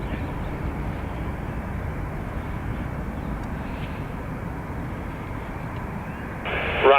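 An airliner rolls for takeoff on runway 28 right at Dublin Airport, its engines producing a steady, broad roar heard from a distance, with a brief louder rise at the very end.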